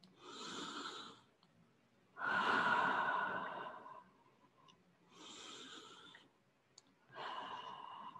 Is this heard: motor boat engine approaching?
no